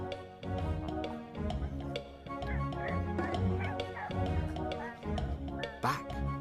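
A dog barks and yips in quick repeated bursts, bright and close, the uneven rhythm mixed with whimpering over a continuous musical backing.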